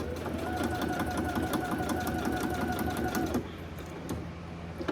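A sewing machine stitches fabric in a rapid, even mechanical rattle with close, steady rhythmic clicking that runs for about three and a half seconds, then stops, leaving quieter room sound under a person's voice.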